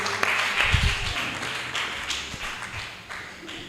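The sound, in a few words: audience clapping at meeting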